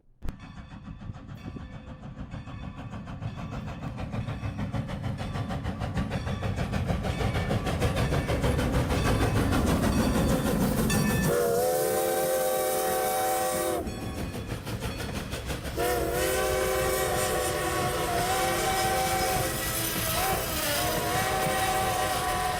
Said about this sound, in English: Every hour a vintage style steam locomotive drives by and it's really cool